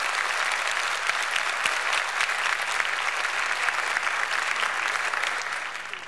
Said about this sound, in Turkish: Bu değerli saz arkadaşlarımıza hep birlikte güçlü bir alkış.